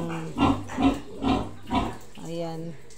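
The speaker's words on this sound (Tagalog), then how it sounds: "So, ayan, iyak si Regine guys. Iyak" A weaned piglet cries in a backyard piggery, giving four loud squealing grunts in a steady rhythm close by, followed by a fainter drawn-out cry.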